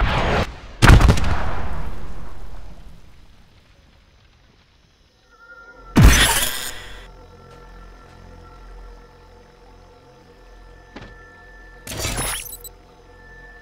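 Video game gunfire during a tournament match: three loud, sharp blasts spaced several seconds apart, each with a ringing decay, separated by quieter in-game hum and tones.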